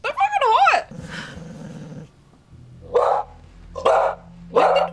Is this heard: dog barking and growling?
yes